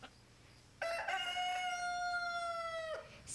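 A single loud rooster crow rings out close by, one long drawn-out cock-a-doodle-doo that holds steady before cutting off sharply.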